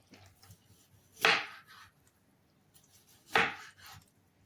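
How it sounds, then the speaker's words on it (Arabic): Two crisp knife chops through chicken breast on a cutting board, cutting it into pieces, each a sharp thud a couple of seconds apart against a quiet kitchen background. "وهنقطع الفراخ بتاعتنا قطع بالشكل ده"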